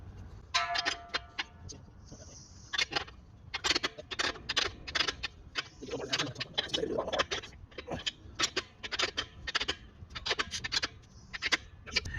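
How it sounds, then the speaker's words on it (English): A wrench tightens bolts on the frame brackets of a Fastway E2 round bar weight-distribution hitch on a Boler trailer, producing bursts of rapid ratcheting clicks in short runs with pauses, close and fairly crisp. "I'm just going to crank them down till they're good and tight so that these brackets don't move along this frame"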